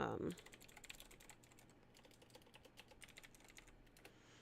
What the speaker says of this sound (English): so I'm typing these two words